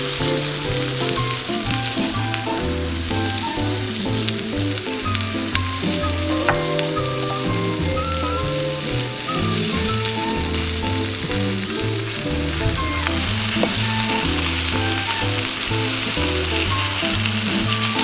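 Chicken pieces brown in olive oil in a pan, making a steady, continuous sizzle that persists under loud background music throughout.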